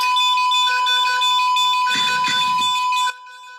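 A loud, sustained electronic alarm tone rings steadily with a brief rustle in the middle, then cuts off abruptly near the end.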